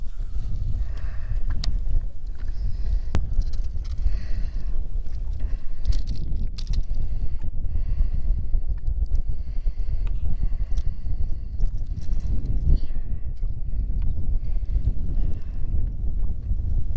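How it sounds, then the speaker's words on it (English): Gusty wind on a lake buffets the microphone outdoors, a continuous low rumble with faint splashing and knocking in the background. "it wasn't supposed to be this windy today"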